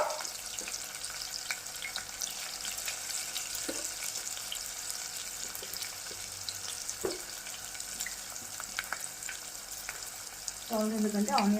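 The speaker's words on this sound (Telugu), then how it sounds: "మళ్ళీ ఒకసారి కలిపేసుకొని బాగా గోల్డ్ కలర్ వచ్చిన వరకు ఫ్రై చేసుకున్నాము" Onions fry in a pan with salt, making a soft, steady sizzle with occasional faint stirring clicks, and a short voice enters near the end.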